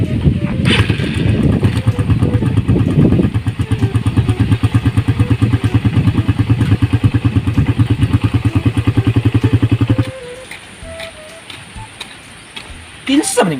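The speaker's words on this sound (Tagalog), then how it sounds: "Dugay na pud di ako andar-andar ni motora ni." A motorcycle that has sat unused for a long time idles with a loud, steady, chugging rhythm up close, then cuts off abruptly, leaving faint clicks and background noise before a brief rev at the end.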